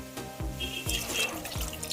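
Water poured into chicken curry in a pressure cooker makes a series of bubbly, gurgling plops and splashes, close and fairly quiet, with no talking.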